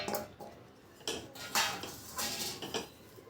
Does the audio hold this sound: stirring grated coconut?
yes